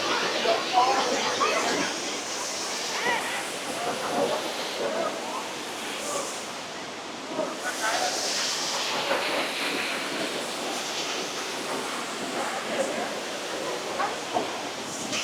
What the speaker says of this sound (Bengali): ঝর্ণা পড়ার আওয়াজটাও কি!